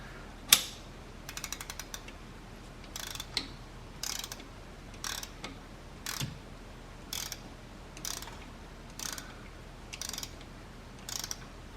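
Harmonic balancer puller being cranked on a second-generation Chevrolet Equinox V6 during timing chain work, giving a slow series of separate metallic ratchet clicks spaced about a second apart, close and fairly quiet with no talking.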